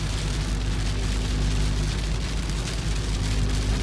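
Heavy rain pours in Amnat Charoen, Thailand, a dense, loud, unbroken roar of water that fills the short stretch from start to finish with no voices.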